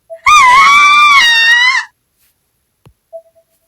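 A girl's panicked scream from the video game Corpse Party, loud and high-pitched, lasts about a second and a half and then cuts off. A few faint, brief sounds follow in near silence.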